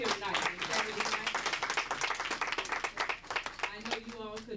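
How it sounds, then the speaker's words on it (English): An indoor audience at an evening event claps in a lively burst of applause that continues throughout, with a speaker talking over it through a microphone. "I think you all should keep clapping."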